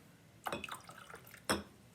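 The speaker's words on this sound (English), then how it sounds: "I'm going to pour the water" Hot water, microwaved to boiling, is poured into a container in a couple of short splashing bursts, faint and close, with a quiet gap between them.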